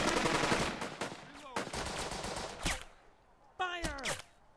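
Video game gunfire from Burden of Command as a squad is shot at: several loud machine-gun bursts separated by short gaps, with a sharp whistling sweep near the end.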